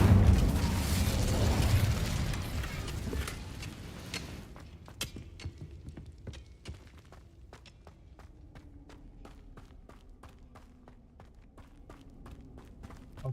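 An Incendio fire spell in Hogwarts Legacy erupts as a dense roaring burst for the first few seconds, then gives way to faint crackles, scattered ticks and footsteps trailing off.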